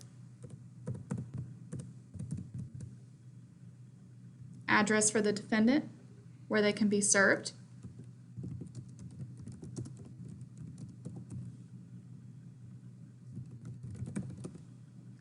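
Keyboard typing on a computer during court e-filing, soft irregular key taps running through most of the stretch, with two short bursts of a person talking in the middle.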